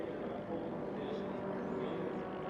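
Formula 1 racing propeller airplanes at an air race championship give a steady, fairly distant engine drone that holds evenly without clear peaks as they fly past.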